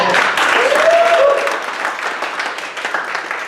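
Audience applause at a comedy roast, loud and dense at first with a whoop or shout rising over it, then thinning and fading over the next seconds.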